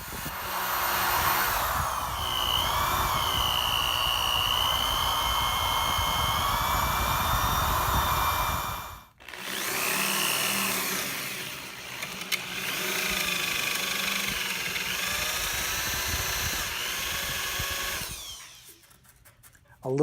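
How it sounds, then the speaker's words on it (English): A power drill cuts the recessed jack hole in a carved-top Floyd Rose guitar body: a loud, sustained whining run, a brief stop, then a second long run that winds down near the end. "And then I'll drill the hole for the recessed jack."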